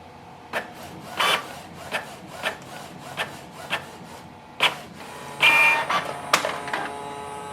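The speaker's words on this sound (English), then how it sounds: "Once you are ready for the copy, you can click on the color or black button and it will start the copy." A Canon Pixma G620 ink tank printer makes a copy with a series of mechanical whirs and rubbing feed strokes at a roughly regular rhythm. Longer, louder motor passes come near the end, heard up close without talk.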